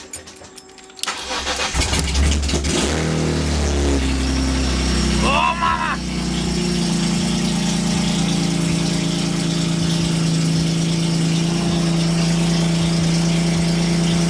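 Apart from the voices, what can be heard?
BMW M3 GTR engine starting, revving and idling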